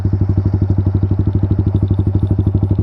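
Motorcycle engine held at a steady high rev of about 7000 RPM for launch control, running on Pertamax Turbo fuel, a loud, close, continuous rapid pulsing drone with no talk.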